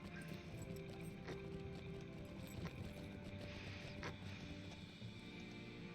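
A horse's hooves clip-clop in a steady, regular beat in the Lord of the Rings Online game, fairly quiet over a constant background ambience.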